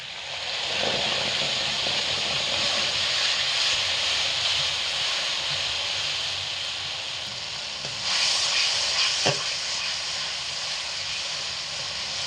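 Ginger paste, green chilli paste and two medium tomatoes sautéing in a pan for a flour-dumpling curry: a steady, even hiss and sizzle throughout, with a brief louder flare around the middle and no talk.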